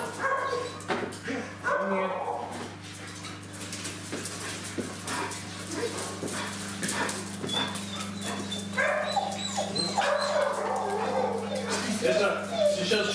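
Dogs reunited after many years at an animal shelter, whimpering, yipping and barking in short bursts amid steady background hum, with people talking over much of it.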